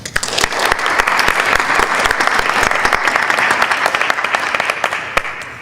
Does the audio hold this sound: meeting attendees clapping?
yes